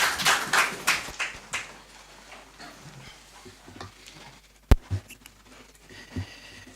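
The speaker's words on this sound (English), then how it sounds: "Shall we please give Mr. President another round of applause?" An audience in Ghana applauds President Mahama at the presentation of the National Economic Dialogue report, a loud burst of clapping that quickly fades to scattered claps, with a sharp knock midway.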